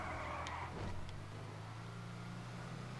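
Engine of a Bravado Greenwood, an old-school muscle car in GTA Online, droning low and steady while driving, with a brief higher whirr near the start and no talk.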